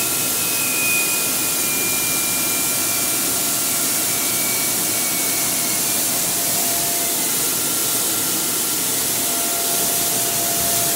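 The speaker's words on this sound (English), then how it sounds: "I will hear the valve open up, and now it's sucking the nitrogen through." A RevoCryo portable cryo device with its valve open, drawing nitrogen through in a steady, loud hiss and rush that carries evenly and alone for the full length, with faint tonal whines above.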